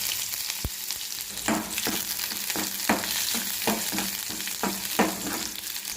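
Onions and tomato with mustard seeds, cumin and curry leaves sizzle in hot oil in a pan, a steady frying hiss broken by repeated scraping stirs of a spoon, with no talk.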